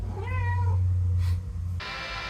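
A domestic cat lets out a single short meow, close and clear, over a steady low hum, followed by a brief burst of hiss-like noise near the end.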